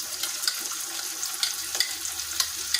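Tomato with ginger and garlic paste frying in a pan on a low flame for shol fish kaliya, a steady close sizzle with small crackles and pops and no talking.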